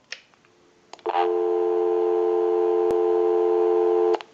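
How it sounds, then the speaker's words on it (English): A steady telephone busy signal drones for about three seconds after a short click, loud and continuous with a faint hum underneath. "We can call my number, and it'll be busy."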